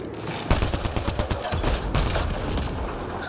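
Rapid bursts of Mass Effect gunfire fill the clip, a sharp first shot followed by a dense, continuous rattle of repeated shots, loud and close.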